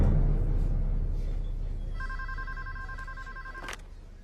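A telephone rings with a steady electronic double-tone trill, fairly loud and alone over a fading low rumble, then cuts off abruptly.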